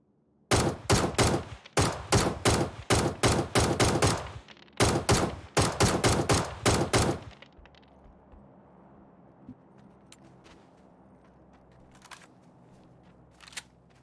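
Loud automatic gunfire from a gun in the console shooter PUBG, fired in several rapid bursts with short gaps, then cutting off into quiet background noise with a few faint clicks.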